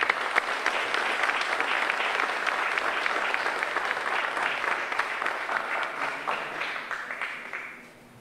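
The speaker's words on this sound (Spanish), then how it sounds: "Edgar Amílcar Escalante, alcalde de Génova, a quien recibimos con un fuerte, fuerte aplauso." An outdoor audience in Génova, Quetzaltenango, Guatemala gives the town's mayor a steady round of applause at a road inspection event, with dense, sustained clapping that fades out over the last second.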